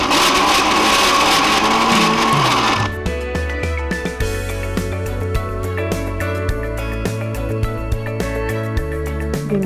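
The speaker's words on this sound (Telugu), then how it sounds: "ఒకసారి మిక్సీ చేసుకుందాం." A mixer grinder runs on peanut-sesame chutney, first with a loud dense whirr, then settling into a choppy, rattling churn with rhythmic knocks as the mixture thickens.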